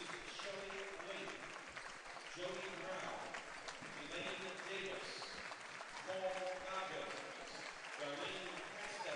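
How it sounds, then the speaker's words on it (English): Crowd in a high school gym at a basketball game giving sustained applause, a broad continuous clapping bed with a public-address announcer talking over it throughout. "a very, very well-deserved round of applause here at Hamilton Southeastern High School"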